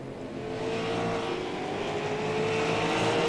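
A late model stock car roars through turn one at Langley Speedway, its engine a steady, building drone that grows slightly louder as it sweeps past, heard from a moderate distance with no voices.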